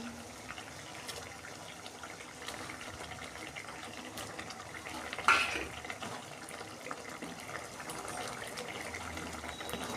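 Katla fish pieces go one by one into a bubbling spice sauce: a faint, steady simmer with a single louder splash partway through, heard close and quiet with no voices.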